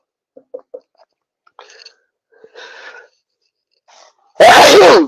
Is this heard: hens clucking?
no